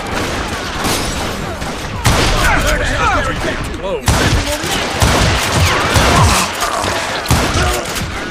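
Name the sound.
gunfire in the video game Call of Juarez Gunslinger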